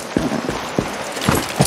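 Horse hooves clip-clopping in the video game Far Cry 6, a handful of separate, fairly loud thuds at an irregular pace over a soft game background.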